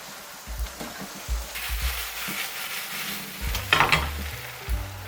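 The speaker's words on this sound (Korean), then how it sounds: "이제 팬에다가 기름을 한 스푼 정도 양 두르고 두부를 먼저 구워줄 거예요." Tofu fries in oil in a pan, a close crackling sizzle broken by scraping and clattering as pieces are moved and turned, with no voices.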